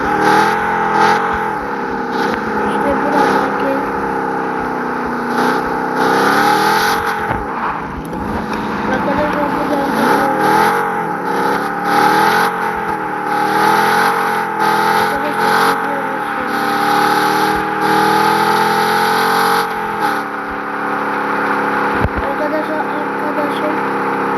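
A car engine drones steadily throughout, its pitch rising and falling as the driver revs and accelerates, with voices faintly present over the motor.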